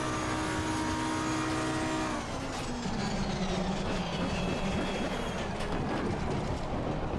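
A race car engine in a sim racing game at Spa-Francorchamps roars with a steady high whine. The pitch drops sharply around a gearshift, then it carries on loud and constant with no talking.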